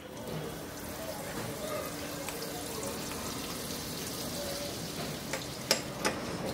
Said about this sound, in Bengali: আমি চুলায় একটা সসপ্যান দিয়ে ওর মধ্যে 2 টেবিল চামচ বাটার গলায় নিব।